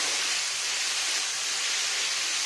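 Green chilies frying in hot oil in a pan while cooking a banana blossom and prawn ghonto, a steady, loud, even sizzle with no pauses and no talk.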